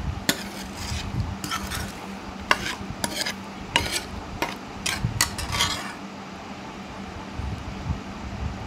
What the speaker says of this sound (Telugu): ఈ మొత్తం కూడా గరిటెతో చక్కగా కలిసే విధంగా కలుపుకోవాలండి